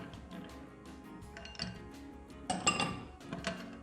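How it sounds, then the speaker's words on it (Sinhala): Ice cubes dropping into a cup for iced coffee, a series of bright clinks and clatters, quiet at first and then a louder cluster of knocks against the glass, with no talking. "දැන් අපිට පුළුවන් සර්ව් කරගන්න කෝප් එකට මේ වගේ අවශ්‍ය තරමට අයිස් කැට දාලා"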